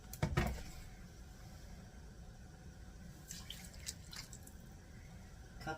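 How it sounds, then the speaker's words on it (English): Milk poured from a cup into a pot of creamy bean and sausage soup, a soft trickling splash at the start, then low liquid movement and a few faint clinks with no voices. "And then we're going to add a cup of milk."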